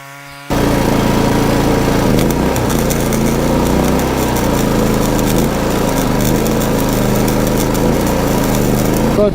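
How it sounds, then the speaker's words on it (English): A Predator 4400 watt inverter generator is loaded by a 20 amp flux-core welder. After a quiet start it kicks up into a loud, constant engine drone with a crackling buzz and slight surges, running close throughout. "I have my welder hooked up. I'm going to see if the generator will push it."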